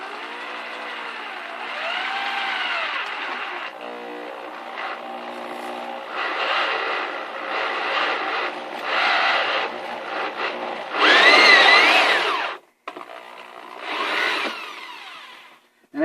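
A power drill bores through a thin aluminum sheet, producing several bursts of whining, harmonic tones with pauses in between. The loudest burst comes near the end, and no one speaks.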